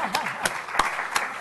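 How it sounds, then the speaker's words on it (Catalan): A handful of people clap briefly and unevenly at an innovation conference session, producing a few separate claps over a quiet room. "Acaba de fer una frase que es mereix un aplaudiment"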